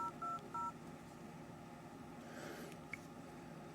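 Keypad tones from a Samsung Galaxy S2 dialer, a few short electronic beeps in quick succession near the start, followed by faint handling noise and quiet room tone.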